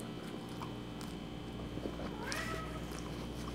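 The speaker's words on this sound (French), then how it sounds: "Oh, c'est mon minou." A pet cat meows indoors, a short rising cry heard fairly close over a low steady room hum, with faint background noise and no talk.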